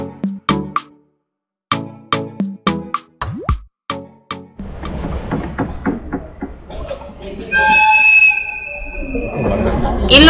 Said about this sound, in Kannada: ಇಲ್ಲಿ ನೋಡಿ, ಇದು ಸಗಾನೋ ರೊಮ್ಯಾಂಟಿಕ್ ಟ್ರೈನ್.